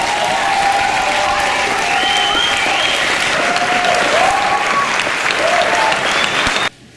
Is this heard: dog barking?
no